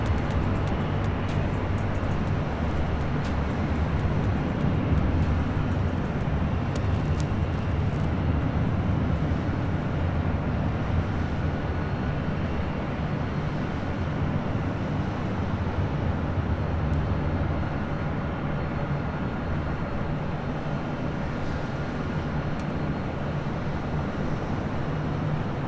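A Hawaiian Airlines Airbus A321neo takes off down runway 24 left at LAX, its engines making a steady, broad jet roar at a distance that holds throughout with no talking.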